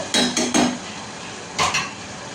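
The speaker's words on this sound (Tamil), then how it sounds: "புதினா கருவேப்பிலை ரெண்டும் போட்டு ஒரு கிண்டு கிண்டி விட்டுட்டு" A spoon scrapes and clinks against a pot while mint and curry leaves are stirred in, three quick metallic strokes followed by a pause and a final pair, with faint cooking noise beneath.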